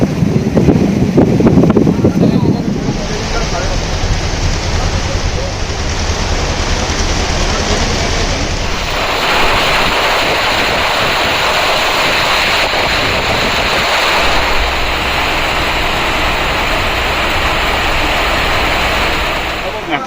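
A launch boat moving along a river in the Sundarbans gives a steady engine drone and rushing water with wind buffeting the microphone, loud and continuous, with a voice briefly heard at the start.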